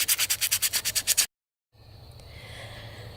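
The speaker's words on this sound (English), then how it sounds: "now I'm going to take these rough edges and sand it down" Rough edges of a wooden tomahawk handle being hand-sanded: about ten rhythmic back-and-forth sanding strokes up close, then a brief silence and a quieter, steady scraping texture.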